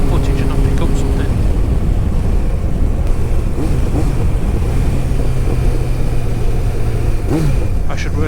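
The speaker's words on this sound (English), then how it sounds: "record this exhaust because it sounds amazing" Honda CBF 1000 motorcycle exhaust while riding, a loud, close engine drone mixed with heavy wind buffeting and brief rising revs, with no talk over it.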